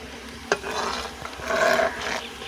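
Tomatoes and chillies fry in a hot pan in a village kitchen, a steady close sizzle with scraping and stirring rasps and a brief clunk near the start.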